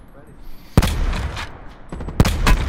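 Bursts of gunfire in Call of Duty: Black Ops 4 Blackout, two loud sharp volleys with rattling tails, mixed with faint background game sound and voices.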